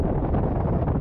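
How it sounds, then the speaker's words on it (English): Steady wind buffeting the microphone beside Coniston Water in the Lake District, a continuous low roar with gusty fluctuations filling the whole moment, no voices. "Bit windy, but that's all good."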